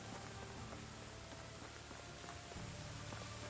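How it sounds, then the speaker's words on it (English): Rain pouring down in the video game Medieval Dynasty, a constant dense hiss of drops on surfaces that holds steady and fairly loud for the whole stretch, with no voices. "That rain is a little bit deafening"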